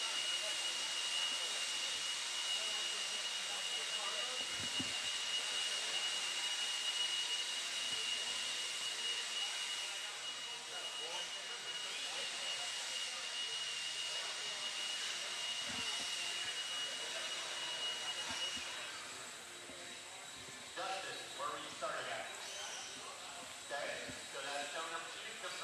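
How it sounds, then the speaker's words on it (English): A blower roars on an RC raceway track during qualifying at the Desert Classic, a steady airy hiss and whine that fades slightly partway through, with an announcer talking over it. "Having a little bit of blower issues on the track, a little confusing on what to do once you grab a blower."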